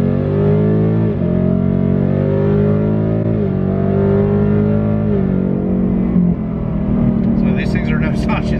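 A stock 2022 Ford Mustang GT fitted with a Corsa intake accelerates hard from inside, its engine note climbing through several gear pulls, loud and continuous with a voice talking over it.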